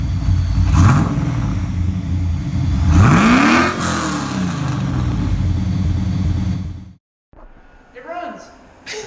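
1991 Mazda Miata engine idling, then revved twice with rising and falling whine, loud and close, before cutting off abruptly; a voice speaks briefly afterward.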